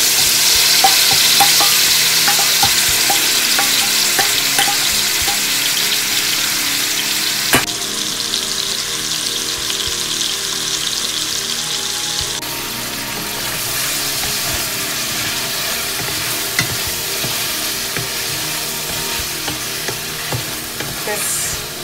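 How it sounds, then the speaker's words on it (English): Shrimp sizzle in butter and extra virgin olive oil in a pot over medium-high heat, a dense steady frying hiss with scattered pops and occasional stirring scrapes throughout, no voices. "I reduced the heat to medium-high, and I'm going to add the shrimp to the pot."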